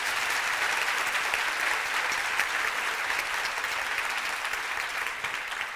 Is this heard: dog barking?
no